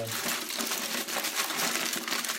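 A sheet of tinfoil is crumpled by hand before being laid on a 14-inch or 13-inch snare drum head, giving a continuous close crinkling and crackling.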